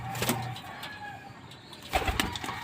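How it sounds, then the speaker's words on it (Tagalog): Pigeons kept for flying coo softly nearby in a few short, low calls, with faint background noise and occasional fluttering. "Yan yung mga ibon natin."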